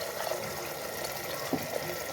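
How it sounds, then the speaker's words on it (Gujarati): Water is poured into a pan of simmering gravy in a short, steady splashing gush, close by and fairly loud, with a small splash partway through. "હવે આપણે આમાં થોડુંક પાણી નાખી દઈશું"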